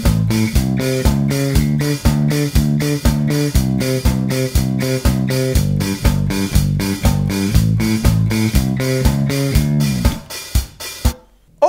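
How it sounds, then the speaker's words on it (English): A bass guitar picked with a plectrum plays an octave riff, evenly spaced punchy notes jumping between low and high octaves in a steady repeating rhythm, close and alone before a brief pause at the end. "for riff number four, we're looking at octaves."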